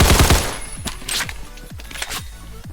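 Video game gunfire: a quick rapid burst at the start, then a handful of separate sharp shots spaced irregularly, each with a short echoing tail, close and loud.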